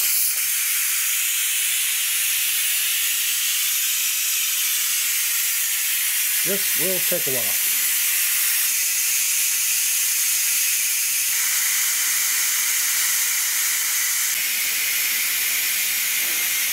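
Pressure cooker releasing steam after cooking chicken soup, a loud continuous hiss that stays steady throughout, with a brief spoken remark partway through.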